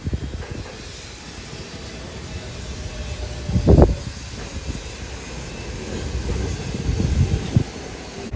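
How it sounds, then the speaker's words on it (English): A New York subway train rides toward Broad Channel from Beach 105th Street, a steady low rumble with a louder clattering surge midway and more rattling toward the end, no talk. "here we are now on the train"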